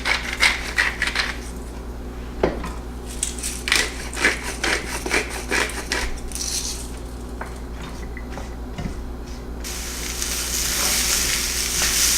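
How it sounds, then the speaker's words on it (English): Chopped mushrooms, onions, fresh oregano, parsley stems and a minced anchovy sauté in a little olive oil, a steady close sizzle broken by scraping stir strokes, the frying growing louder toward the end, with no talking. "So in this pan I have some chopped mushrooms, chopped onions, fresh oregano, the stems from the parsley, one minced anchovy, and a little bit of olive oil"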